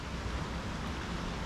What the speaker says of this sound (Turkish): Burada da dere akıyor.